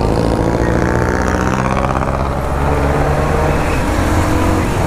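A Bristol BR 250cc motorcycle is ridden, its engine droning steadily and loudly alongside rushing wind noise, with no talking.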